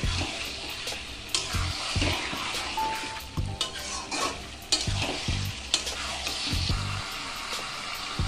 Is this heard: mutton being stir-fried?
yes